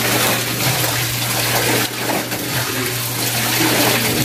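Water swishes and splashes steadily and close by as laundry is rinsed by hand in a basin, a continuous sloshing with no voices.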